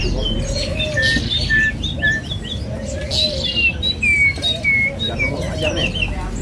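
A white starling (jalak putih) chirps repeatedly in bright, whistled phrases, close and fairly loud, over a steady low background rumble.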